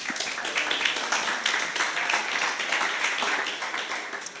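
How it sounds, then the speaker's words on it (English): Dense, steady applause from an audience at a cross-chain builders' meetup in Paris, many hands clapping close together at an even level with no talk over it. "let's give an applause"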